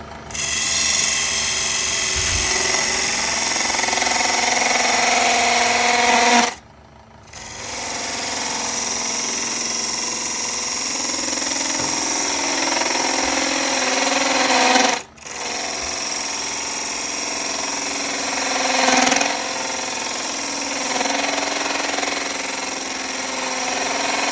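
Wood lathe spinning a lidded box blank while a dovetail is cut for mounting, giving a steady whirring, scraping drone with two brief pauses.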